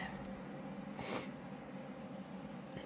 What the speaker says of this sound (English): while I sniffle